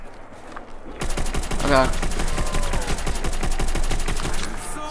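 Rapid automatic gunfire in Call of Duty Zombies on the Nacht Der Untoten map, loud fast-repeating shots that run steadily for several seconds, with a brief spoken exclamation over the start of the burst.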